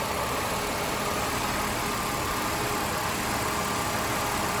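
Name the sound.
2001 Ford Taurus engine idling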